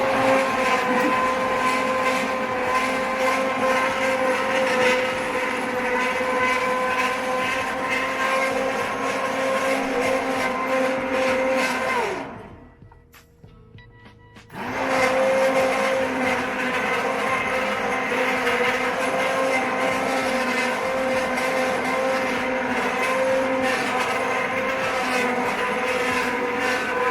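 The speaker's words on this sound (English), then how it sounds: "Everything's almost all blended up." An electric blender purees zucchini into a green detox vegan soup with a loud, steady motor whir. It cuts out for about two seconds midway, then runs again at full strength.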